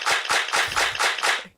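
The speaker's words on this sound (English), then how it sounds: "And everybody clap your hands." An audience claps its hands in six evenly spaced, loud bursts of applause, close and rhythmic, fading at the end, with no voices.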